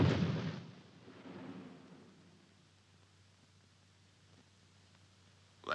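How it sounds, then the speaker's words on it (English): Anti-personnel mine explosion at El Alamein, a loud close blast at the start that rolls off into a long low rumble and fades to near silence. "That explosion was one of our mines."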